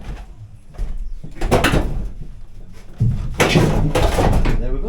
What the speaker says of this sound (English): Living room door.